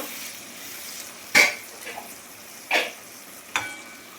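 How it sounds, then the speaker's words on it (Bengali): Sour tamarind liquid hits a hot frying pan during a Bengali vegetable and hilsa curry cook, giving three short, sharp sizzling bursts with quiet pauses between them. "আমি এবারে তেঁতুলের এটা টকটা ঢেলে দেবো"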